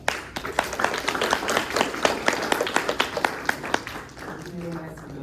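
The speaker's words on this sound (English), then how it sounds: "we will give a big round of applause to our keynote speaker, Haru, and also big round of applause to our speaker, Chris" A modest audience at a robotics reading club session gives a round of clapping for the keynote speakers, brisk and fairly close for about four seconds before tapering off as a voice resumes.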